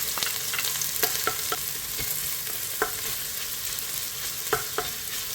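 Garlic sautéing in a pan with onion for chicken soup, giving a steady close sizzle with scattered clicks and scrapes from stirring.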